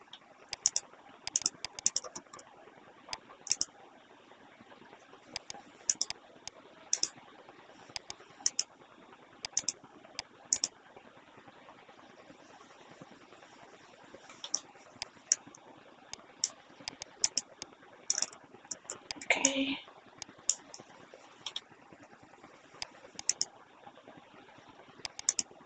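Keys clatter on a computer keyboard in short irregular bursts of close, crisp taps with brief pauses, no voices, and one louder clunk partway through.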